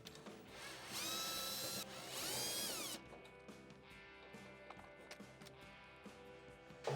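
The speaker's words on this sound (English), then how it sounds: "remove the two screws holding it onto the bracket" A power screwdriver backs two screws out of the pressure regulator bracket on a Whirlpool gas stove, giving two whirring bursts of a few seconds each, followed by faint clicks and light handling.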